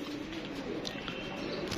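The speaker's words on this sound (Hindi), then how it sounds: "ये कबूतर ऊपर जा रहा है दोस्तों" Pigeons cooing while flying overhead, soft repeated low coos over a steady outdoor background, fairly faint and close together.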